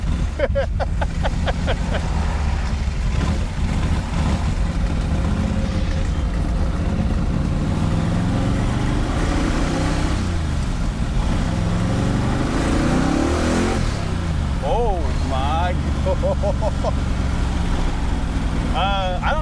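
A 1968 Corvette with a 572 big block engine rumbles loudly and steadily, swelling into several revs, while someone talks over the engine noise.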